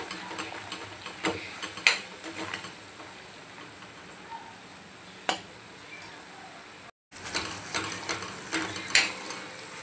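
Mutton pieces with ground masala paste are stirred in a pan, soft scraping and spoon clinks over a low sizzle, with a few sharper knocks and a brief gap.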